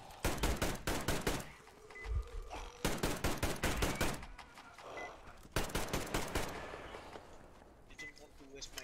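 Repeated bursts of AK rifle fire in the video game Metro Exodus, several rapid rattling volleys with short pauses between them, close and loud, with faint voice sounds in the background.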